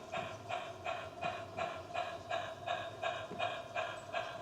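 A small Peckforton Light Railway goods train runs through a cutting, a steady rhythmic chuffing of regular beats about twice a second, moderately close and unaccompanied by speech.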